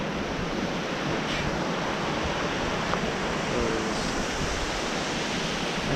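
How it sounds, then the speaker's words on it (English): Water pouring over a lake spillway beside a trail bridge, a steady, broad rushing roar that stays even throughout. "I want to show you guys the spillway"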